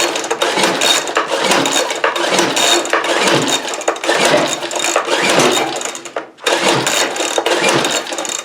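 A Craftsman 4-cycle leaf blower is pull-started over and over without firing, each rope yank making a loud rasping churn of the engine, with a brief pause before the pulls resume, close up and with no talking.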